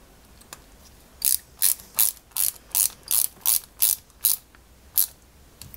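A screw driven into a 1961 London Routemaster RM857 bus scale model, heard as a steady run of about ten crisp ratcheting clicks from a screwdriver, close up, with no talking.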